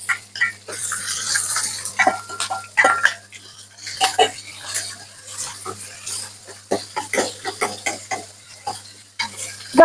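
Onions for tomato rice frying in a pan with green chillies and curry leaves, stirred with a spoon that clinks and scrapes repeatedly over a background hiss and intermittent sizzle.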